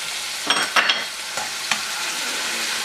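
Spam and kimchi fry in a small wok with a soft background sizzle, broken by a few quick scraping stirs clustered early, then quieter frying.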